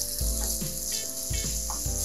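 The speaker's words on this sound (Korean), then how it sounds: "양파를 적당히 볶으시다가" Onion and minced garlic stir-fry in about two spoons of oil in a hot pan, a close, constant hiss broken by a few low thumps and scrapes as the pan is worked.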